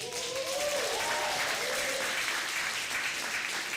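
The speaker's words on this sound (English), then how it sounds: "can we all give Maya a round of applause?" A room of attendees at a Seattle Colleges government-to-government gathering breaks into sustained, even applause, with a faint voice briefly audible at the start.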